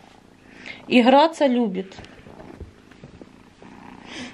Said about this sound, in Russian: Мурлыкает без остановки.